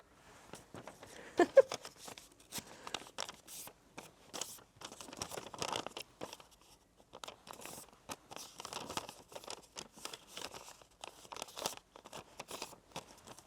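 A square sheet of paper is handled and crumpled, giving continuous close crinkling and crunching with irregular bursts and brief pauses, alone without talk.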